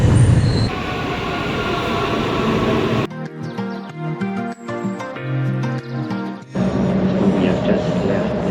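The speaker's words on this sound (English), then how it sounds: "headed to the subway station to board the train to Frankfurt Central Station" Subway train ride toward Frankfurt Central Station from the airport: loud continuous rumble of the carriage, with a quieter stretch midway where tonal wheel squeal and whine stand out before the roar returns.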